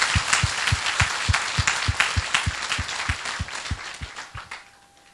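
Church congregation clapping in unison, a rhythmic series of sharp claps at an even beat that gradually fades out near the end.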